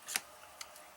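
Scissors snip out a gingerbread ornament piece in one sharp close cut, followed by a couple of faint softer snips in a quiet room.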